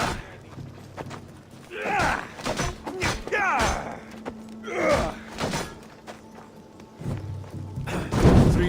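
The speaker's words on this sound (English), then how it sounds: "Three weapon racks destroyed." Heavy thuds and wooden crashes as weapon racks are smashed in Assassin's Creed Odyssey, several separate impacts spread across the moment with game ambience and a low hum underneath, the last hit loudest.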